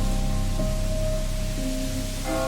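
Steady rain pours down in a dense, continuous hiss, with faint tonal hums drifting underneath.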